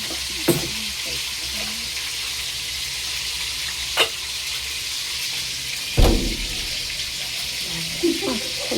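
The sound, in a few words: fish frying in oil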